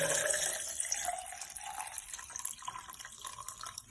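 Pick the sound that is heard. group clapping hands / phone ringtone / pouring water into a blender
pouring water into a blender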